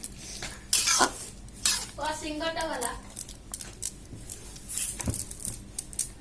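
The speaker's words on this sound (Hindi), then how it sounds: "ए भल भाव ताकू घांटी देबा।" A spoon scrapes and clanks against a metal pot of bean and potato curry in quick irregular strokes, with a brief voice and kitchen clatter mixed in.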